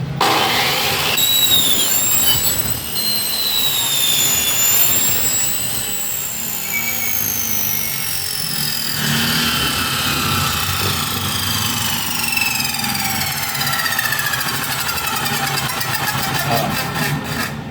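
Loud, continuous cut-off saw whine cutting a 1 3/4 x 4 steel tubular at 45 degrees, with high screeching tones rising and falling as the blade bites through, steady throughout.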